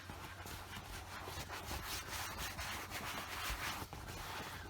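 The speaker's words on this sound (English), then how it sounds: "We'll rub it in by hand." Conditioner is rubbed by hand into coated leather, giving a steady, soft rubbing and swishing close by with a faint, even texture and no pauses.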